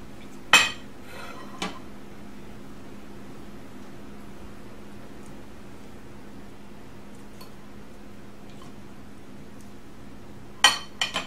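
Dishes and a spoon clink in a kitchen while a spoon is fetched for gravy and potatoes, with a couple of sharp metallic clinks near the start and a few more near the end over a quiet background hum.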